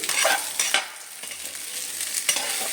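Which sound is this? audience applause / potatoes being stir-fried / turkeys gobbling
potatoes being stir-fried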